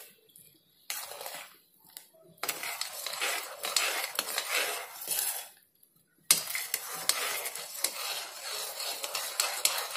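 Sugar and water being stirred into syrup in a pan for coconut barfi, with a spoon scraping and clinking against the metal in steady bursts, close and fairly loud, broken by a few short pauses.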